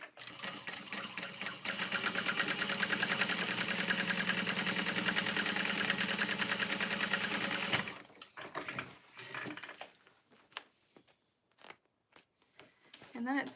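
A sewing machine runs steadily for several seconds while top stitching a vinyl bag, a fast even mechanical whirr, then stops, leaving scattered handling clicks and rustles close by.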